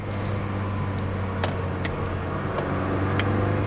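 A Mazda 2 driven spiritedly, its engine a steady, moderately loud hum with a low droning tone and faint higher whines rising briefly, heard from inside the cabin with no talking.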